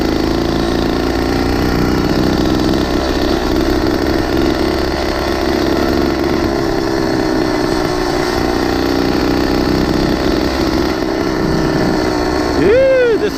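Small engine on a motorized 20-inch mini bike running steadily at close range, a continuous loud buzzing drone throughout with voices talking over it and a brief rise near the end.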